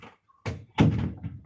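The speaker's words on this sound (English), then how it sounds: "I'll close the door" An indoor door is pushed closed to shut out television noise from the next room, giving a couple of soft wooden thuds and a short rattle up close.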